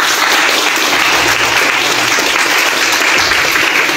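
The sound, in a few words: audience applause welcoming the speaker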